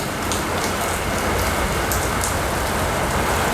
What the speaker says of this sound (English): Also, it is raining right now.